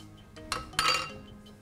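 A spatula scrapes onions out of a container in a short, close-up pass, with a brief clatter and then a longer scraping rub against the sides.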